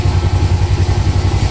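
A Suzuki Smash 115 motorcycle idles close and loud, its low, rapid, even firing pulses thumping steadily throughout with a slight mechanical clatter and no speech.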